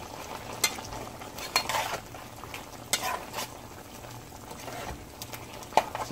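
Beef kidney cooking in a pan gives a steady, moderately loud frying sizzle with occasional stirring scrapes and clinks throughout, no talking.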